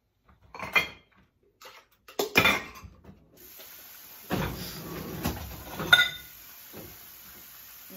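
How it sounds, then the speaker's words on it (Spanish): Dishes being washed at home: a few separate clinks and clatters of plates and pans, then a continuous rush of running water with more scattered clanks. "vamos a lavar trastes"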